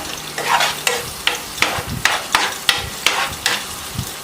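Onion and ginger frying in oil for a mutton roast sizzle close by under a spoon or spatula that scrapes the pan in a regular rhythm, about nine strokes in four seconds.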